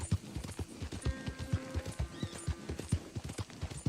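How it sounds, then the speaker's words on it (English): Hooves of an O'Driscoll horse in Red Dead Redemption, a steady clip-clop gait at close range with a brief tonal whinny-like sound partway through. "this is an O'Driscoll horse"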